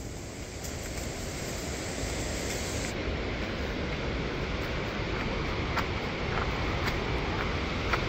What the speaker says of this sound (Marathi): काय धबधबा आहे यार, जबरदस्त.